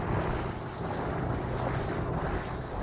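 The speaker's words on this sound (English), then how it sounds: "today the wind is blowing from the northeast, strong northeast wind" Strong northeast wind, 20 to 25 with gusts of 30, roars steadily past the microphone on a boat pulling traps at sea, with rushing water and waves beneath, loud and continuous without a break.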